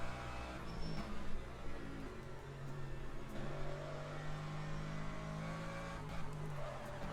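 Mercedes and Lamborghini GT3 race cars roar steadily through a Le Mans circuit in the Le Mans Ultimate sim, their engines held at high revs in a continuous, loud drone with no speech.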